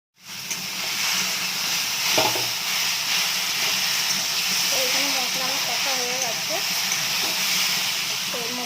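Spice masala for an okra, potato and fish dish frying in hot oil gives a continuous close sizzle and hiss, with faint vocal sounds partly buried beneath it midway.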